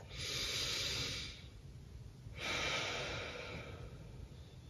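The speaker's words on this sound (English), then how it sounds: "Big deep breath in." Deep breaths drawn in and let out during a twisting stretch, two long slow airy breaths, close and fairly soft, with no talking.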